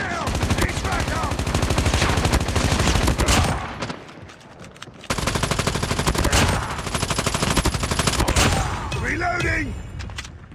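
A Call of Duty Mobile team deathmatch fills with rapid, loud bursts of automatic gunfire that break off for a moment and then resume, with players shouting over the shooting.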